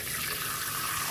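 Tap water runs steadily into a kitchen sink while herbs are washed for a Jamaican breakfast, a continuous close hiss and splash with no voices.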